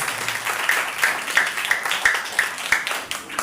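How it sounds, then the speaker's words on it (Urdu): A church congregation clapping hands together in a steady rhythm of roughly three claps per second, moderately loud and even across the whole stretch. "آئیں پاک روح کی تالی بجاتے ہیں"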